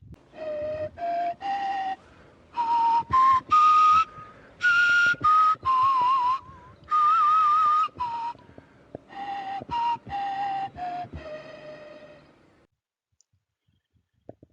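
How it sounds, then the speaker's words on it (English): A breathy modern replica of an ancient flute plays a series of short whistling pitches in phrases, rising and falling, close and clear, then stops to near silence. "here we see those pitches realized on the actual flute, or at least on a modern replica of it"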